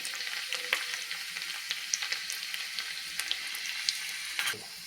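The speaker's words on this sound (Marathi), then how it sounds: "लसूण आपल्याला छानपैकी फ्राय करून घ्यायचा आहे लालसर रंगावरती" Finely chopped garlic frying in a spoonful of oil in a small tadka pan, a quiet continuous crackling sizzle with scattered small pops and spoon clicks, close by, no speech.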